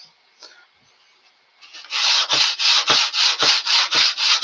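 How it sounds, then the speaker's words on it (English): Wood being hand-sanded during a repair job: after a quiet start, about nine brisk, even back-and-forth rasping strokes, close and loud, with no talking. "any good repair job is going to come with its own amount of sanding"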